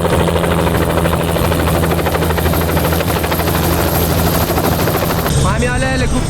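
A helicopter arrives to pick up a team in the Arctic wilderness, its steady rotor thump and turbine whine loud and continuous throughout, with a shift in tone near the end as it draws close.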